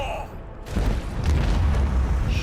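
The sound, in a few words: macro cannons firing in video game Warhammer 40000: Rogue Trader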